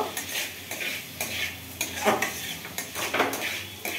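Fried mung dal is stirred into ash gourd curry in a metal pan: a spoon scrapes and clinks rhythmically against the pan, with a soft sizzle underneath.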